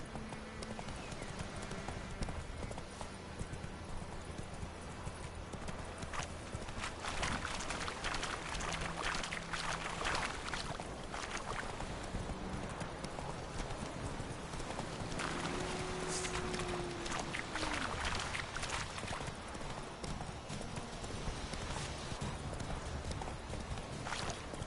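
Hooves clip-clop in a fast, steady gallop as a horse runs in The Witcher 3 video game, continuous and fairly close amid dense ambient game sound.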